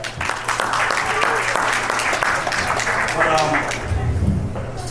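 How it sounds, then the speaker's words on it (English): An audience claps for a mariachi band at a stand-up comedy show, steady applause and crowd noise under a voice talking over it. "Give them a round of applause for that mariachi band."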